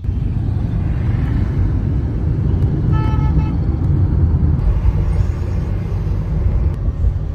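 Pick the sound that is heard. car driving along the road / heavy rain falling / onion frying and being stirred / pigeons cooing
car driving along the road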